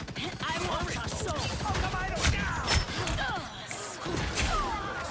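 Rapid bursts of gunfire in the shooter game Rivals, a dense clattering fusillade of sharp cracks and thuds running throughout, mixed with game effects and someone talking over it.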